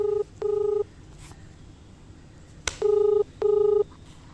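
Phone keypad dialing tones sound in four evenly spaced beeps, two before a short click and two after, each a clear flat electronic tone, close and alone.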